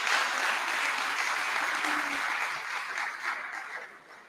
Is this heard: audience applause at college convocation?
yes